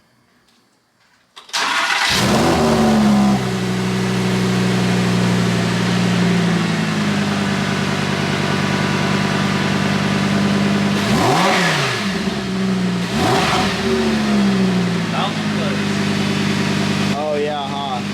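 A Lamborghini Huracan fitted with a VR exhaust starts with a sharp bark, then settles into a loud, close idle, with two bursts of revving near the end and voices talking over it.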